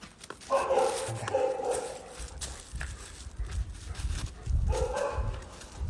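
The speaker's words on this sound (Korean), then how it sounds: "아, 참고로 신바가 짖는 거 아닙니다" A dog barks in a few short bursts at the start and again near the end, somewhat distant and under room noise.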